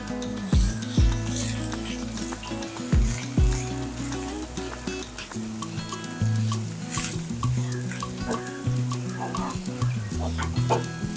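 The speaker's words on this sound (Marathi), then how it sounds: "अर्धा कांदा मी फोडणीमध्ये घालते" Half an onion dropped into hot oil for tempering, for stuffed ridge gourd, sizzles and crackles up close as it is stirred, with clucking chickens and other household noise mixed in over the frying.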